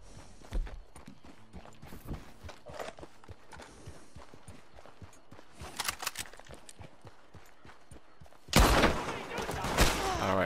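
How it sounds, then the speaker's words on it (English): Horses galloping in the video game Red Dead Online: repeated rapid hoofbeats thud and clatter at close range, mixed with bursts of gunfire, someone talking now and then, and a loud, noisy rush near the end. "Now just keep watching the horses, cause it looked like Buddy's going for a horse"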